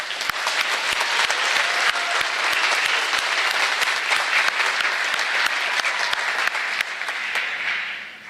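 An audience claps steadily at a 2024 graduate-school white coat ceremony. The dense applause is close and continuous, with sharp individual claps standing out, before it begins to thin slightly at the end.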